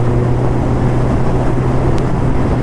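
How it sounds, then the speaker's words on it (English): A Kawasaki Ninja ZX-14R engine pulls in sixth gear at around 80 km/h as the throttle opens, giving a loud, steady low drone blended with heavy wind rush from riding. "So if I open the throttle,"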